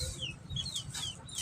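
A small pet chick peeps in short, high chirps, several in quick succession over a faint background, fairly close and quiet.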